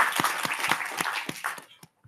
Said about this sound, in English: Please have a big round of applause for Ronan